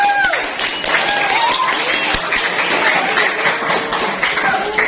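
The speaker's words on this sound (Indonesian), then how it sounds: "Kasih aplaus dulu." Audience applause fills a school orientation event in Indonesia, a steady wash of clapping that runs the whole five seconds, with some scattered chatter and voices mixed in.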